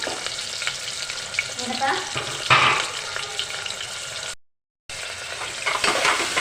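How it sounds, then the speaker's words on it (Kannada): Onion, green chili and tomato fry in hot oil in a pan, giving a steady close sizzle with occasional stirring scrapes, cut by a short silent gap near the end. "ಸ್ವಲ್ಪ ಫ್ರೈ ಮಾಡ್ಕೊಳ್ಳೋಣ"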